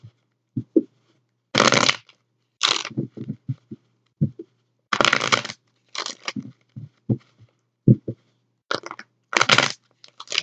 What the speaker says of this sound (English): Just a couple of shuffles here.